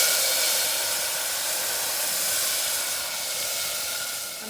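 Tamarind water poured into a hot tempering pan for South Indian pepper rasam hisses loudly and steadily in a close, continuous sizzle that softens slightly toward the end.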